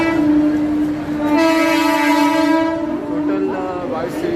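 A train blares its horn loudly and at length as it pulls in, the rumble of the cars running beneath, close by.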